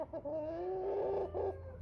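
Chantecler x Bresse pullet making a short run of clucking and crowing-like calls, close and fairly loud, nearly two seconds with no talk over it.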